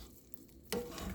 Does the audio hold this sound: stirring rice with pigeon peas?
yes